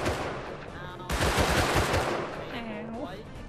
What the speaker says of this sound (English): These guys are shooting at someone